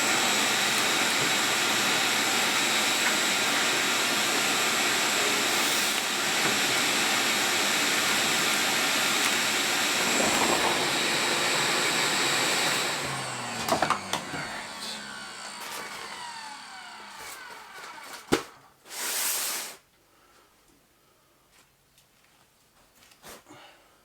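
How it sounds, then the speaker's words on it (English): A vacuum cleaner whines loudly and steadily while cleaning up after work in a tiny house, then cuts off near the middle; brief handling knocks and a short final burst follow before quiet. "I had to vacuum this out"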